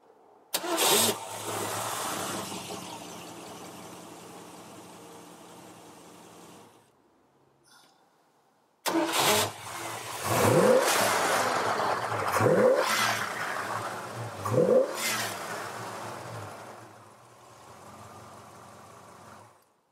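A 1965 Ford Mustang Fastback engine with electronic ignition cranks and catches, idles, cuts out briefly, then restarts and revs up three times in quick bursts before settling back to idle.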